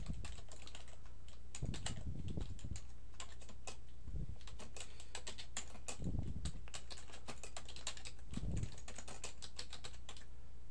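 Quick, continuous clicking of fingers typing on a computer keyboard, close and fairly quiet, with a few heavier thumps in between like the space bar or enter key being struck.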